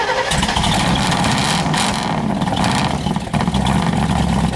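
A 1969 COPO Camaro ZL1 Chevrolet muscle car engine, loud and close, rumbling and revving steadily with a sharp cutoff at the end.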